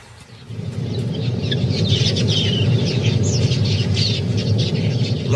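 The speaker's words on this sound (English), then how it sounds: "Large flocks of quailias are in the area, searching for seed and grain." A large flock of quelea birds at a waterhole, dense overlapping chirps and a roaring wingbeat rumble swelling in and holding steady and loud throughout.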